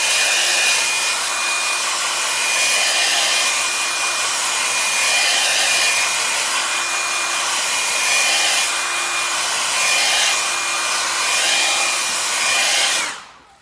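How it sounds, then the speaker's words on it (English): A hair dryer blows steadily with a constant whirring hum for over ten seconds, drying leather restorer on a classic car's leather, then cuts off abruptly at the end. "we'll use the hairdryer to do that."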